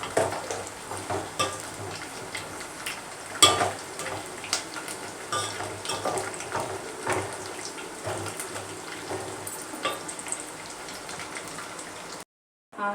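Dried fish frying in a pan: a quiet, continuous sizzle broken by scattered clinks and scrapes of stirring utensils, with no talking.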